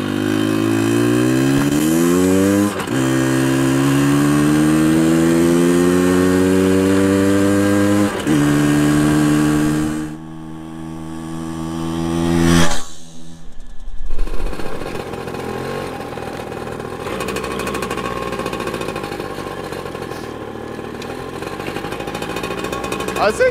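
A Yamaha PW80 small dirt bike engine revs and strains with rising, labored pitch, then cuts out briefly before settling into a steady running drone.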